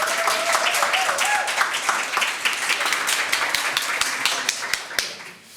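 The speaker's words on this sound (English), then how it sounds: "So round of applause for Future Proof Films." An audience at a Creative Mornings lecture event gives a round of applause, dense overlapping clapping throughout that thins toward the end into a few scattered claps.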